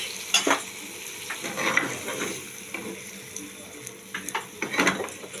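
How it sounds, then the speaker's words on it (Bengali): Broccoli and peas fry in a pan with a splash of water, producing a low sizzle with bursts of spatula scraping and metal clinks coming in uneven clusters. "একটু জল দিয়ে ভেজে দেবো"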